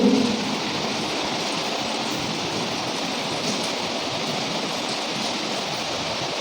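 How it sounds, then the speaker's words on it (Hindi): Steady rain falling outdoors, a dense continuous hiss that stays even and close throughout, with no voices. "बारिश हो रही है"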